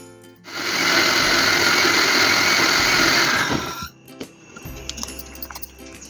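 A mixer grinder whirs loudly and steadily for about three seconds as it grinds sesame seeds with milk, then cuts off, leaving quieter clinks and handling noises.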